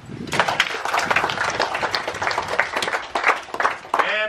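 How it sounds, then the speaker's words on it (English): A group of people claps in a dense, steady patter of hands at a 21st birthday celebration in Aitutaki, Cook Islands, with voices talking over the applause. "Clap."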